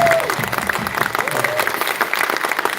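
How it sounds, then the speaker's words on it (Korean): A crowd at a Cheonan volunteers' day ceremony breaks into applause with some cheering, dense clapping filling the space fairly loudly and evenly from start to finish. "함성과 함께 박수로 여러분 스스로를 던지시기"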